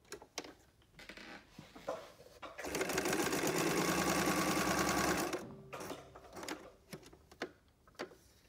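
Sewing machine stitching a test seam on a garden apron project: a steady, loud mechanical run of fast rapid stitching lasting about two and a half seconds, with quieter handling clicks before and after.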